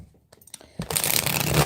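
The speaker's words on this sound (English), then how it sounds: "let me do one more shuffle" Tarot cards are shuffled by hand in a quick riffling burst, with a few soft card handling taps first and then a dense, close flurry of shuffling.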